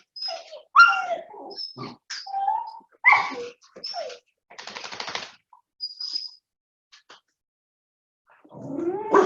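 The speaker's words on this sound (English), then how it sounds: "Dogs are going to bark here." Several dogs bark in short, irregular bursts during a quiet yoga session, some barks loud and close, others fainter, with pauses between them and no talking.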